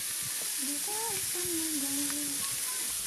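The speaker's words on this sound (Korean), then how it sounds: "곱창 기름에 잘 익어가는 더덕들" Deodeok roots frying in beef intestine (gopchang) fat at a camping site, giving a steady, close, even sizzle throughout with faint voices underneath.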